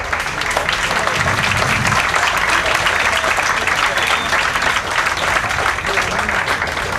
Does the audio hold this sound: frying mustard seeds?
no